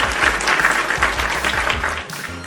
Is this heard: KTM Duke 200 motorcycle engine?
no